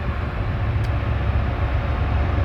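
A northbound intermodal freight train rumbles past at Crescent near Horseshoe Curve, Pennsylvania, in winter, giving a steady, loud, low roar that holds unbroken throughout.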